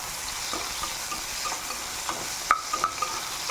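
Raw banana slices fry in hot oil in a kadai, giving a steady close sizzle with a few soft stirring clicks and taps, no talking.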